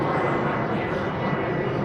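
A plane passing low overhead near LaGuardia Airport: a loud, steady broadband engine roar filling the whole stretch, with no other sounds standing out.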